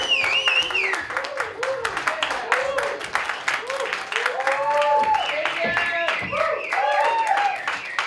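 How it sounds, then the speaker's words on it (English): Audience applause with scattered claps and cheers for the host of a comedy show, mixed with lively voices and whoops of the crowd throughout, loud and close. "Round of applause for Brian Taraz and An Evening with Satan."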